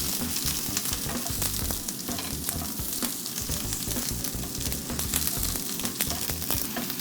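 Coconut oil melting and sizzling in a pan while cooking ugali with onions: a dense, constant crackle and hiss of hot fat, close and steady, with light scraping of stirring underneath and no talk.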